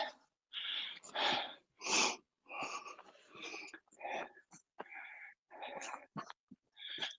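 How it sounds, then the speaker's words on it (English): A dog pants in quick, raspy bursts of breath close by, a rhythmic series of huffs and wheezy exhales on a mountain bike trail, with short pauses between groups. "That was Teddy panting, not me"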